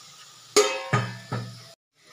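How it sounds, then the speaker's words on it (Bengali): Marinated meat dropped into a hot wok in three quick additions, each a sharp close impact followed by a burst of sizzling that fades before the next, ending abruptly. "এবার আগে থেকে ম্যারিনেট করা মাংসটাও এবার আমি কড়াইতে দিয়ে দেবো।"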